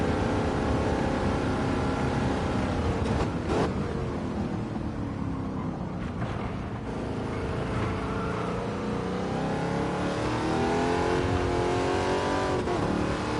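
A racing video game car engine revs continuously, its pitch sweeping up and down through the gears as it accelerates, loud and steady throughout with no talking.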